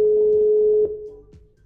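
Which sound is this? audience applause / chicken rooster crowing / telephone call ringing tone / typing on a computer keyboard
telephone call ringing tone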